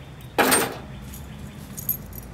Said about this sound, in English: These are the keys to my wife's 1969 Chevy El Camino.